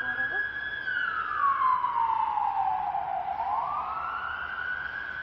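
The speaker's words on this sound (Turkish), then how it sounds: "ambulans geçiyor bu arada" An ambulance siren sweeps past outdoors, its wailing tone rising and falling steadily across the few seconds at moderate loudness, with faint background noise and no talk over it.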